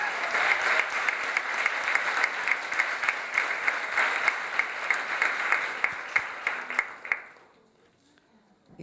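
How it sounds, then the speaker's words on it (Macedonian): Audience applause at a queer storytelling evening during Skopje Pride Weekend, a dense sustained clapping from a sizeable crowd that carries on steadily for about seven seconds before stopping abruptly and leaving near silence. "еден голем аплауз за Билјана Секуловска"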